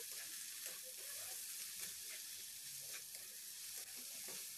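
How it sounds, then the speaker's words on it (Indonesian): Steady sizzling of fried rice vermicelli seasoning being stir-fried in a hot pan, a constant hiss with occasional scraping from stirring. "tumis sampai tercampur semua bumbunya"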